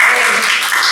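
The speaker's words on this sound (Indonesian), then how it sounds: "Tepuk tangan." Brief burst of applause from a group, steady hand clapping filling the whole short moment without pause.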